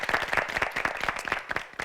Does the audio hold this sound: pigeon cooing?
no